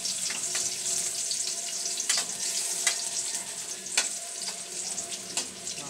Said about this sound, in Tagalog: Lagyan po natin ng mantika. Konting mantika lang po yung sasapat para ipangisa. Okay, hulog na po natin ang ating bawang.